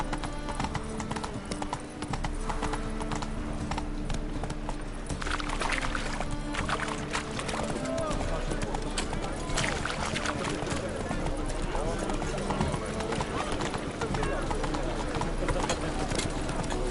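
Roach, Geralt's horse in The Witcher 3, trots steadily with a continuous clip-clop of hooves under game music, ambient noise and speech.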